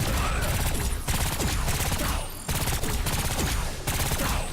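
Airstrike special ability in the video game Agents of Mayhem, a dense, loud barrage of rapid-fire explosions and gunfire rolling without pause, with one brief dip midway.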